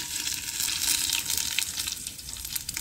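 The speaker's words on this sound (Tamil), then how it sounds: "கடுகு வெந்துச்சு, கருவேப்பிலை போட்டுக்கிறேன்." Curry leaves and mustard seeds sizzle steadily in hot oil, a close, bright, continuous crackling hiss with no talking.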